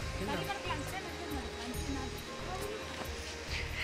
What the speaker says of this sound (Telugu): మీకు సౌండ్ కూడా బాగా వినిపిస్తూ ఉంటుంది, వాటర్ సౌండ్.